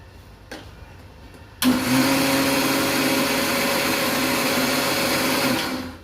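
A kitchen mixer grinder grinds a peanut chutney. After a quiet start with a faint click, the motor kicks in as a loud, steady whirring drone for about four seconds, then eases off at the end.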